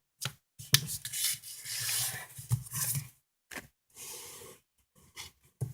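Paper is creased and rubbed in short scraping bursts while being folded into a gate fold for a phone stand, close and crisp, separated by brief silences.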